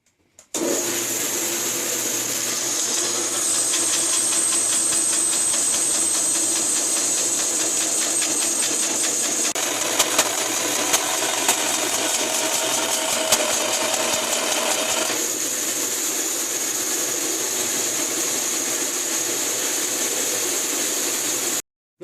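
An underpowered wood bandsaw strains while cutting metal, giving a harsh continuous whine with gritty rasping that holds steady for about twenty seconds, then stops abruptly.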